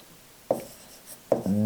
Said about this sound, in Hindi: फिर यहाँ लिख देता हूँ